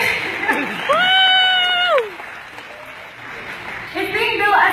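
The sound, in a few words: audience clapping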